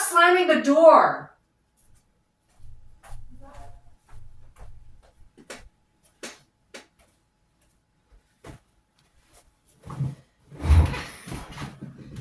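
Doors slam somewhere in a large building with a central courtyard: several sharp, hollow thuds spaced seconds apart, mostly faint and distant, with a person talking before and after.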